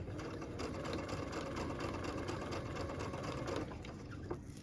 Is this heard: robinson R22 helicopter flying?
no